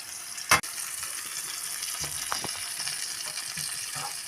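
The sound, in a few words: cumin, mustard seeds, onion, chilli, curry leaves frying in oil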